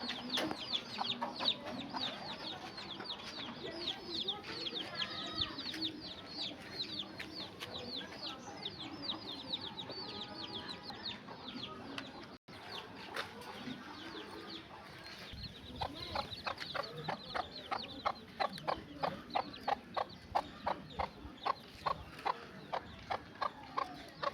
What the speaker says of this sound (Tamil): கோழி பார்த்தீங்கன்னா அழகாக குஞ்சு வச்சுட்டு நிற்கிதுன்னு